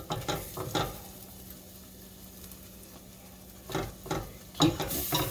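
Flour is whisked into melted butter in a pan, giving intermittent scraping and stirring strokes with a faint sizzle, clustered at the start and again near the end with a quieter stretch between.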